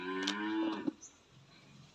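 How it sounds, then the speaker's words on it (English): A cow moos once, a short loud low call from close by, followed by quiet room tone with no voices. "Cow."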